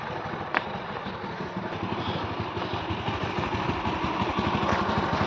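A GTR sports motorcycle idles close by with a steady, low, throbbing engine rumble that holds even and continuous, with a faint click near the start.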